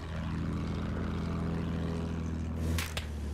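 Droning propeller aircraft engine in the World War I shooter Battlefield 1, a steady low buzzing roar holding loud and close, with a couple of sharp bangs near the end.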